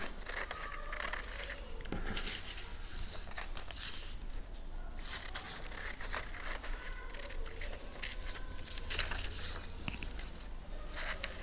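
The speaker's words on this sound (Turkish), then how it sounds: "daireye kadar bu çizgilerden kesiyorum" Paper being snipped with scissors along drawn lines toward a central circle while a pinwheel is made, giving close, steady crisp cuts and rustling throughout, with no talking.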